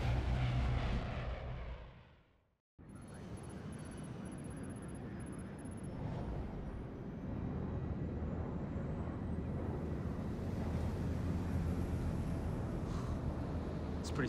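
Steady airplane engine drone inside an aircraft in the stealth game Splinter Cell Blacklist, a continuous low roar filling the cabin after a brief cut, with no talk over it.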